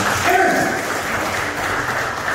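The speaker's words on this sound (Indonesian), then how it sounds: "Berikan tepuk tangan yang benar itu" A church congregation claps together at a pastor's prompt, a steady, dense wash of applause filling the room with faint voices underneath.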